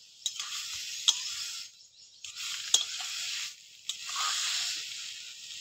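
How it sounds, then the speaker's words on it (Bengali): Beto greens with shrimp are stirred and fried in a pan, giving a soft, continuous sizzle that swells and fades in waves, with a few sharp scraping clicks from the stirring utensil. "শাকটা এইভাবে নাড়াচাড়া দিয়ে দিয়ে ভেজে নেব।"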